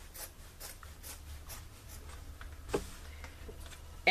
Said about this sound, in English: you just cut open the seam